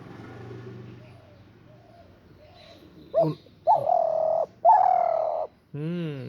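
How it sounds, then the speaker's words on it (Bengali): A pet bird perched on a person's shoulder calls back to a bird outside, giving several loud, sustained cooing notes in a row after a soft, muffled opening, close to the listener. "কেউ বাইরে থেকে ডাকছে, তুমি তার ডাকে সাড়া দিচ্ছ আমার কাঁধে বসে বসে।"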